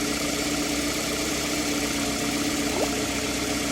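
The engine of a 2009 Toyota Camry idles during a coolant purge, a steady even hum with a constant low tone, and no one speaks over it.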